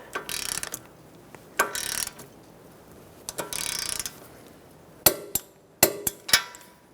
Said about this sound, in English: let's torque this to 30 foot-pounds